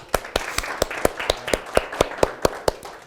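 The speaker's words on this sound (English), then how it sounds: "let's give them a round of applause, guys." Applause at a school district parent forum, heard as a short, steady run of about a dozen evenly spaced loud claps, like a small group clapping in unison.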